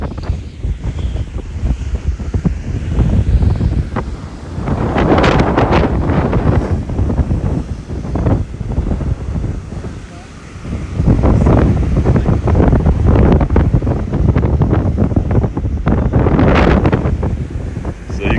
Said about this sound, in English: I won't be able to talk to you because the wind's too crazy